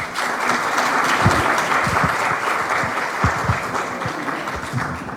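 Audience applause for a doctor at a pulmonary hypertension symposium, a steady wash of many hands clapping throughout, moderately loud and close, with no voices over it.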